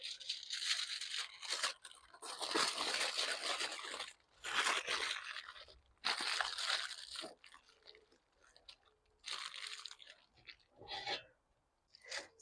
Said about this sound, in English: wrap these up nicely. I'm going to put a piece more foil over them.